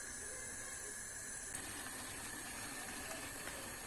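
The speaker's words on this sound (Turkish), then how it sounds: "Kaynar geldi altını kısalım." Red pepper paste simmering in a pot on the stove gives off a faint, steady hiss with tiny bubbling ticks, close and quiet throughout with no talking.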